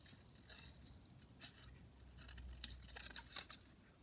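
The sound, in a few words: scissors fussy cutting a paper rosebud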